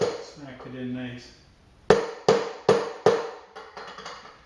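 A mallet drives a rear wheel bearing into a 1995 Enfield Bullet hub, giving four evenly spaced sharp metallic whacks and then a few lighter taps, heard right after a voice.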